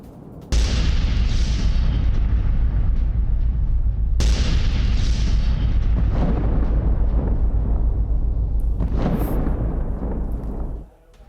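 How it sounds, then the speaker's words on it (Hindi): Bombing strikes on a Hamas rocket base in north Gaza: loud, deep rolling booms that surge in two big waves and then a third, with a sustained rumbling roar in between. "हमास के नए ठिकाने पर बमबारी कर दी है इजरायल ने"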